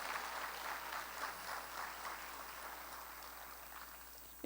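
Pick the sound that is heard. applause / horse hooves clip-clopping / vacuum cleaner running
applause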